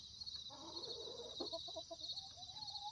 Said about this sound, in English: I see a chicken drinking from a dripping hose.